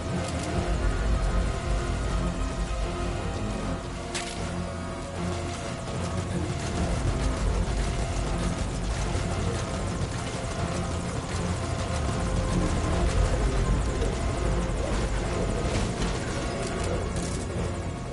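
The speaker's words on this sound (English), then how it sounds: "Now get in the chopper." Helicopter in a PS4 video game, a steady, loud rotor thrum and engine drone continuing without pause, with faint game sounds and music underneath.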